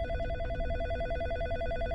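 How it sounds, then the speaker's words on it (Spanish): A mobile phone rings in a first-person horror video game with a steady electronic tone that repeats in a fast pulse over a low rumbling backdrop, loud and continuous. "A estas horas llamando al móvil, tío."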